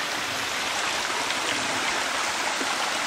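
A stream flowing along Gold Mine Run gives off a steady, even broadband rush of water, continuous and fairly close with no pauses or talk.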